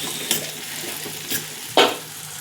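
Onion and tomato frying and sizzling in a pan, with a steady low sizzle broken by three brief stirring scrapes, the last one the loudest and closest.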